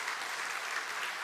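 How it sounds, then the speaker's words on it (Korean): Church congregation applauding the choir during a Sunday service, a steady wash of many hands clapping close by, brief and continuous with no voices above it. "우리 찬양대 한번 박수 한번 할까요?"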